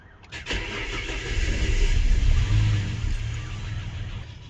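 A Ford Falcon engine on a turbo budget build, with the exhaust due to come off and a slight rocker tick, cranks briefly, catches and settles into a loud, rough running rumble.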